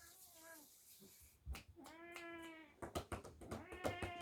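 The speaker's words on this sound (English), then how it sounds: "Can you hear Milo meowing?" A cat meows repeatedly, drawn-out and insistent, close by, with a few short sounds breaking in between the cries.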